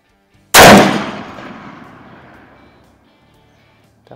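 A single loud shot from an Izhmash Saiga .223 AK-style rifle at an outdoor range, a sharp blast that rings out and decays slowly over a couple of seconds, with silence before and after.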